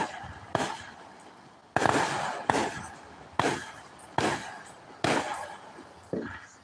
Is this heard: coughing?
no